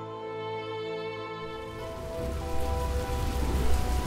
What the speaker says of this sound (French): Un soir, il faisait un temps horrible, les éclairs se croisaient, le tonnerre grondait, la pluie tombait à tout.